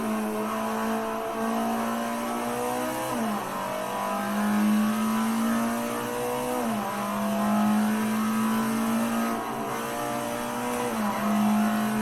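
Alfa Romeo 33 Stradale racing on the Nordschleife in Assetto Corsa on PS5, its engine droning steadily at high revs with three rising runs each ending in a sharp upshift drop, loud and close throughout with no talk.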